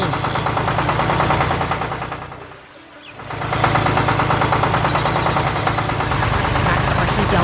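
A green Fendt tractor engine runs loud and close with a dense rattling, knocking rumble that dips briefly midway, then returns to full, steady power.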